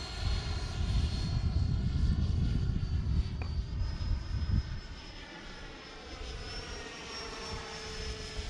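An XFly Sirius radio-control model jet makes a gear-down pass, its engine a steady whine that swells loud and close, then eases off as it goes by, with a thin high tone holding throughout.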